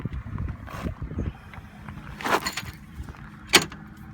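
Küat bike rack on a 2016 Subaru Forester pulled down on its hitch, a run of close metallic rattles and shifts ending in a sharp clunk as it locks in place, with no talking.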